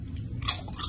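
Crunchy red chili chips being chewed up close, two quick crisp crunches within a second over a low room hum.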